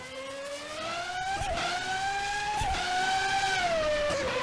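A 1990 Ferrari V12 in an rFactor racing game mod howls at high pitch, its tone sweeping up through the gears with short dips at each shift, loud and continuous with no voices.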